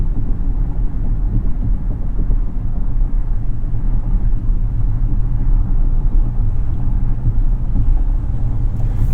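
A 2022 Rolls-Royce Cullinan accelerating toward 70 on a concrete highway, heard as a steady, loud low rumble of road and tire noise with a muted engine underneath, unbroken for the whole stretch.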